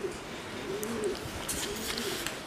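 Pigeons nesting up under a roof in southern Spain give several soft, low rolling coos in a loose rhythm, moderately distant, with faint ambient street noise and a few light clicks.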